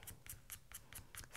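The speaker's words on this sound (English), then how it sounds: "I'm just going to sort of shave a little bit of the graphite" Scissors blade scraping graphite off the soft core of an 8B pencil, a run of six or seven short, crisp rasping strokes in a steady rhythm, close and fairly quiet, with no talking.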